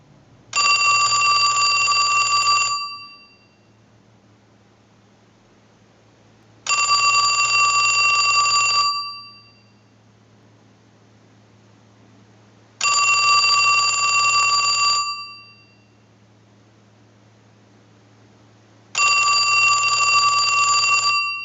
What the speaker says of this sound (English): send a ring cycle like you're getting a call